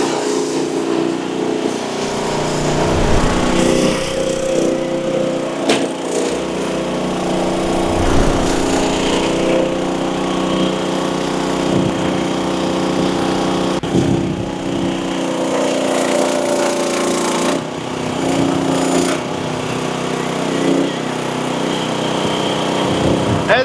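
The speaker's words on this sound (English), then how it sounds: "So we're gonna go put it on high throttle so we can go fast." Chinese mini skid steer engine running at high throttle, a loud steady droning roar with a rough mechanical rumble that holds throughout, with occasional clanks and scraping from the machine working nearby.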